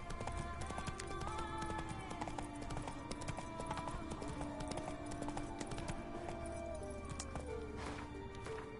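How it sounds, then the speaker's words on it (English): A horse gallops in the Witcher 3 video game, with steady rhythmic clip-clop hoofbeats running continuously under layered game ambience. "Run, Roach"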